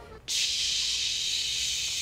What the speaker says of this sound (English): now we wait until you hear the magic sizzle